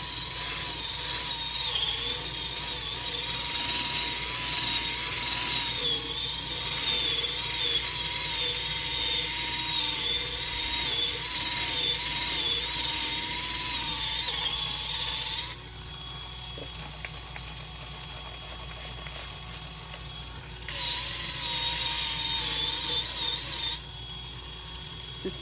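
A new electric sander works over a resin piece, smoothing its bumpy edges ahead of a topcoat. It whines steadily for about fifteen seconds, drops to a quieter hum, then briefly surges loud again before settling.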